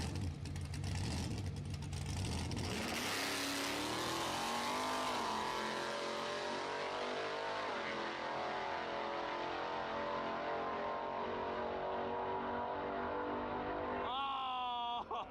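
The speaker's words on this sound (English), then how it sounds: "Wow, his burnouts are looking way better." A drag racing video game car does a burnout: a loud raw engine roar climbs steadily in pitch for several seconds and holds high, ending with a quick rev blip, while a voice talks over it.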